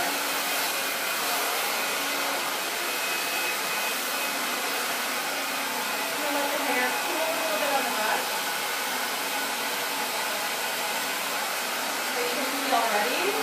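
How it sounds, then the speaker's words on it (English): A hair dryer blows steadily with a whooshing hum, its tone wavering slightly as it moves, and faint voices murmur underneath. "I'm using my blow dryer to kind of angle off and hold on to that"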